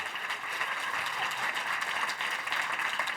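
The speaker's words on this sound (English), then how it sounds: "Can we have a round of applause for our incredible panelists, please?" Steady applause from a festival panel audience fills the room, a dense wash of many hands clapping continuously.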